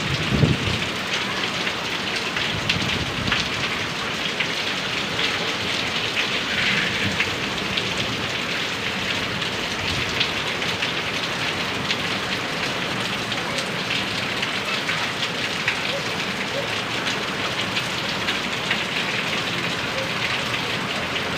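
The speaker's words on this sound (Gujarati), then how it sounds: "જોરદાર વરસાદ પડી રહ્યો છે।" Heavy rain pours down steadily in Kanpur village, Bhavnagar district, Gujarat, a dense, continuous hiss of drops hitting surfaces, close and loud with no voices.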